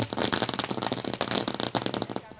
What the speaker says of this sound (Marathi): फटाक्यांच्या आतषबाजीत पाहुण्यांचं शुभ आगमन